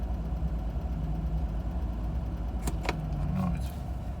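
A 1987 Toyota Land Cruiser FJ60 engine runs steadily just after a cold start, a low, even idle rumble throughout, with a few brief sharp clicks or clanks near the end.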